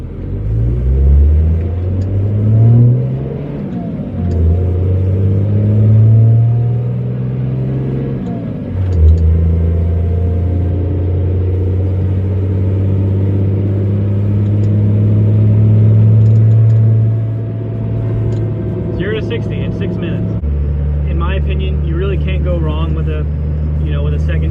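A second-gen 24-valve Cummins diesel Dodge 3500 dually with a 5-speed manual rumbles along the road, its deep engine drone rising and falling through several gear changes, with a person talking over it from inside the cab.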